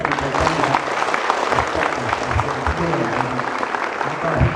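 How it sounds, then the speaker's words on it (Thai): A crowd at a district community event in Thailand applauds, a continuous rush of clapping under a speaker's amplified voice. "ขอพี่น้องปรบมือให้เกียรติ"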